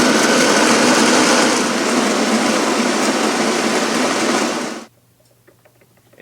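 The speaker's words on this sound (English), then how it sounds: "you hit the on button, and you'll hear the grinder engage" A Capresso CoffeeTEAM coffee maker's built-in grinder grinds beans in a loud, steady, dense whir for nearly five seconds, then cuts off abruptly, leaving a quiet low hum with faint small sounds.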